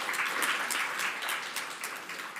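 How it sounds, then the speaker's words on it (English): Applause fills a conference hall on international research cooperation with Ukraine as a presentation ends: dense, steady clapping from a seated audience, fairly loud and continuous throughout without a break. "Give a round of applause."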